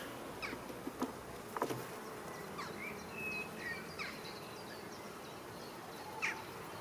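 Honeybees at a French apiary during a hive inspection, a soft steady hum with scattered brief buzzes of individual bees passing close, plus a few faint bird chirps in the background.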